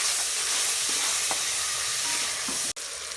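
A masala with tomatoes fries in a pan as a steady, close hiss with faint scrapes and one brief clatter near the end. No voices.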